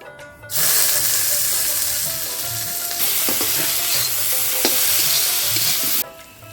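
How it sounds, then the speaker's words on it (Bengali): Chopped cabbage hits hot oil for street-style egg chowmein, bursting into a loud, dense sizzle that stays strong for several seconds, with a few sharp utensil clinks against the pan before it cuts off. "তেলটা গরম হয়েছে এখন দিয়ে দেবো বাঁধাকপি"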